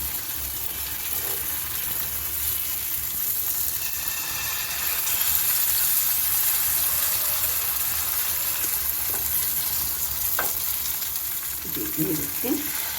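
A paste of maize (corn) flour batter sizzles steadily in a hot pan for makai roti, a constant hissing fry. Toward the end, a few scraping clinks come from the batter being stirred and shaped.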